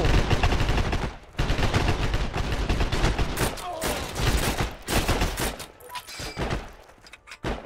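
Gunfire in the video game Heroes and Generals: rapid automatic bursts and overlapping shots, loud and dense, with brief pauses between volleys.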